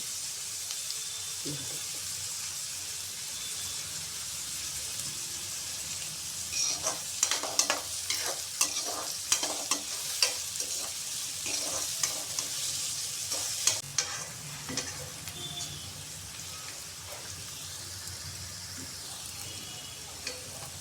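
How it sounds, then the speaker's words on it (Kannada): Onions frying in a pan for carrot palya give a steady bright sizzle throughout, with a cluster of spatula scrapes and stirring knocks in the middle stretch before the frying settles back to an even hiss. "ಈಗ ಒಂದು ಐದು ನಿಮಿಷ ಈರುಳ್ಳಿ ಫ್ರೈ ಚೆನ್ನಾಗಾಗಿದೆ"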